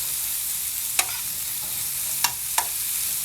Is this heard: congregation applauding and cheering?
no